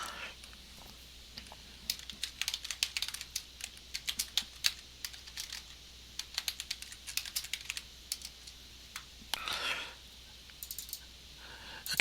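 Typing a formula into a spreadsheet on a computer keyboard, rapid close key clicks in irregular bursts with short pauses, a longer clattering run near the end.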